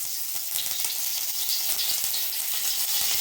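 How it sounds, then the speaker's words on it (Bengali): Dried red chilli and curry leaves crackle and sizzle loudly in hot oil, a dense, close spitting hiss that runs steadily for a few seconds with no voices. "তেলে দিয়ে দিচ্ছি দেখো একটা গোটা শুকনো লঙ্কা আর কারি পাতা, এই যে কারি পাতা ফোড়ন দিয়ে দিচ্ছি"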